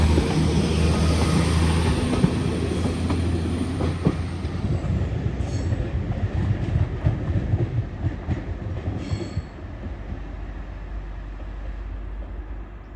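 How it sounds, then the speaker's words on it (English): A Class 195 train departing Earlestown station for Leeds, its rumble and wheel clatter filling the air, with faint wheel squeal, then slowly easing off as it pulls away. "Train now departing is a 195 going to Leeds."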